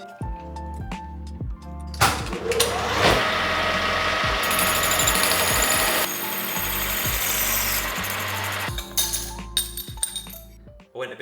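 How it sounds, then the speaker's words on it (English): A lathe turns down a motorcycle front fork spacer, giving a loud continuous whirring, scraping cut that runs for several seconds and is framed by clinks and handling noises before and after. "I'll just pass it off in my lathe"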